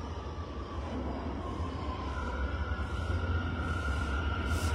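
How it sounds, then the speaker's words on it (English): A New York City subway train rumbles steadily and loudly close by. Its low roar builds slightly toward the end, and brief high hisses and faint squeals sound above it. "Okay, I'm going on the train."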